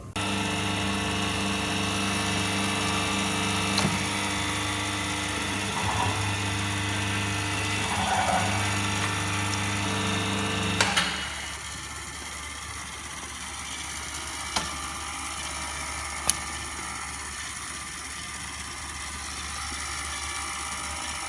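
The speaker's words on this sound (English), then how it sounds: "we can see that the metal has been cut and has been placed on the conveyor" An Omron-controlled hydraulic shearing machine with a pneumatic colour-based sorting system cuts metal, giving a steady mechanical drone with ratcheting clicks that cuts off abruptly midway, followed by a quieter hum and a few isolated clunks.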